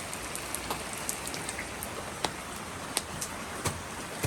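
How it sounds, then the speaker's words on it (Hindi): Steady heavy rain pouring down, a dense hiss with scattered sharper drops pattering on a nearby surface. "बारिश की स्पीड काफ़ी तेज़ हो गई है जी इस वक्त"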